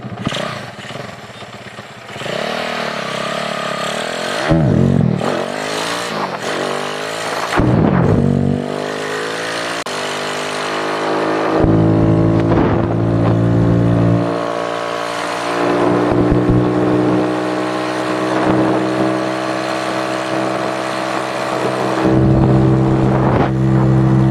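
A motorcycle fitted with an SND ZS 190 replica engine rides along an open road, its exhaust droning steadily and rising in pitch through several gear changes, with loud rev surges and shifts heard close up throughout.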